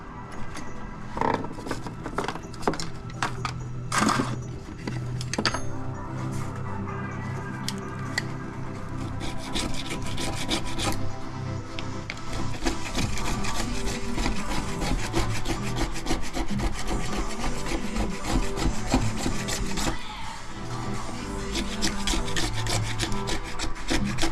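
Hardened body filler being scraped off a panel with a metal scraper in a shed, heard as steady, close rasping and rubbing strokes that run continuously and grow slightly louder midway, with no talking.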